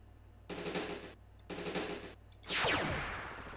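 Machine-gun bursts from the Sega CD game Ground Zero: Texas, two loud rattling volleys with a short gap between them, then a heavier blast that fades down, over a low background hum.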